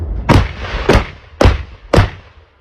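Four heavy gun blasts fire on command in quick, evenly spaced succession near Bakhmut, each a sharp close boom with a brief rumbling tail.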